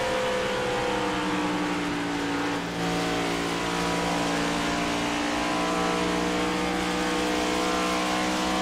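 A TH Designs race car at a Texas track accelerates hard up a hill, its engine droning loud and steady with a dense, sustained roar that never lets up.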